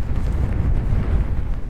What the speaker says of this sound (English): the wind's coming from behind the back of the tent